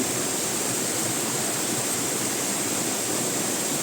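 Water pours steadily over a dam at a pool site, a dense, continuous broadband rush with no breaks, close and loud, with no voices over it.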